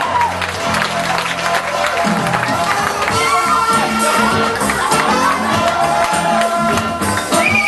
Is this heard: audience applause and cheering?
yes